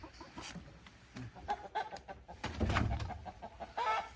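Newly arrived chickens cluck in short, repeated bursts, with a louder cluster of calls toward the middle, close by and alone without talk.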